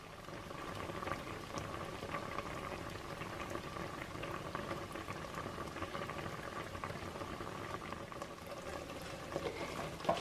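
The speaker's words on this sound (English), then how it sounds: "I am going to simmer it for 9 minutes until they begin to pop" Whole-berry cranberry and orange sauce simmers on a stovetop over low-medium heat, a steady close bubbling with soft pops and spatters throughout, no voices.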